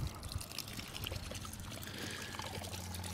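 Water rushes and pours out of opened drain valves on an irrigation system being winterized, a steady loud gush with trickling detail throughout.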